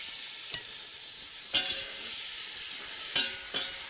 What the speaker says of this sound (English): get the bacon frying into this pan here